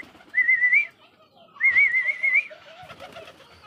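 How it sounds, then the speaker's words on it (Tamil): Pigeons in a racing-pigeon loft give two drawn-out, wavering coos, the second longer, over a low murmur of shuffling and soft background noise. "இப்போ சுற்றி என்னை சுற்றி இத்தனை புறாங்க இருக்கு இல்லைங்களா"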